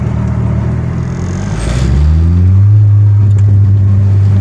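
Turbocharged car engine at a normal full-throttle launch without brake boosting, a low rumble for a moment before the loud revving surges up and rises steadily in pitch, heard alone and close.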